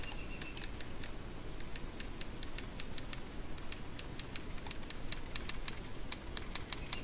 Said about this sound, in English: Sound of typing.